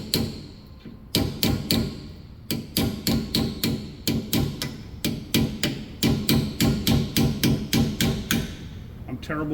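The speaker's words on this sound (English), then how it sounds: "I'm terrible with a hammer, so if you heard me miss, yeah, it's just normal for me" A hammer strikes out the rear pinion seal on a Ford F150 in dozens of sharp metallic blows, loud and close, coming in an irregular rhythm at first and then settling into a fast steady pounding.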